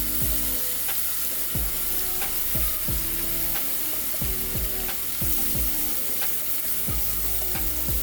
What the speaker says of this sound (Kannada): ಈಗ ಹಸಿ ಮೆಣಸಿನ್ಕಾಯಿ ಪೇಸ್ಟ್ ಮಾಡಿ ಹಾಕೋಬೇಕ್ರಿ. ನೋಡಿ ಆಮೇಲೆ ಚೆನ್ನಾಗಿ ಫ್ರೈ ಮಾಡ್ಬೇಕ್ರಿ.